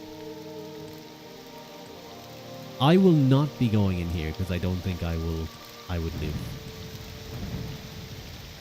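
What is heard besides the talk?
rain in the video game Morrowind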